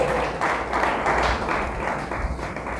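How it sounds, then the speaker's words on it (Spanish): Church congregation applauding during a sermon, a dense continuous patter of many hands clapping at moderate loudness, swelling slightly in bursts and sustained throughout. "Dale un fuerte aplauso a Dios."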